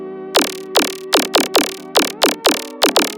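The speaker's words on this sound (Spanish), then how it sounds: "Igualmente tengo una onda de sierra" Bright, buzzy synth sawtooth oscillator for a tearout gun bass, about nine sharp stabs in an uneven rhythm, each with a fast attack and a short decay. The stabs are loud and dry, with no voice over them.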